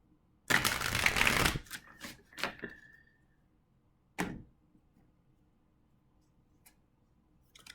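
Tarot cards shuffled in one dense riffling burst lasting about a second, then a few softer taps and a single later flick against a quiet room.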